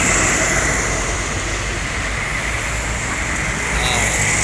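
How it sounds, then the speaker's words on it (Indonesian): A bus rolls past on a road near a restaurant in Palembang, a continuous broadband engine and tire rumble that stays loud and steady throughout, with no clear rise or fade. "Ada bis lagi."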